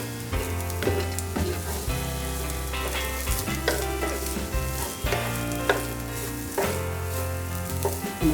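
Capsicum sizzling in a pan of oil while cauliflower Manchurian is cooked, a steady close sizzle with occasional stirring scrapes and a low tonal hum underneath, no talking.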